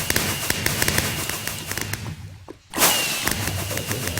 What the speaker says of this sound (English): Okay, there is an TNT exploding.